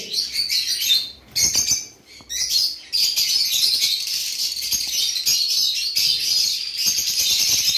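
Many small caged birds at a bird market chirp and tweet continuously at close range, a dense high-pitched chatter with brief pauses near the start.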